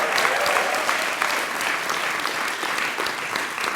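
A crowd applauds at an Urban Possibilities fall 2015 show, sustained and fairly loud, with a thick continuous texture of clapping that stays level from start to finish.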